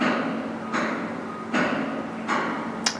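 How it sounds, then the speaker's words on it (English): Construction work at a large building site across the road gives four distant, regular banging hammer-like knocks, roughly every 0.7 seconds, over a steady background hum, with no talking. "There is a huge building site just across the road from me,"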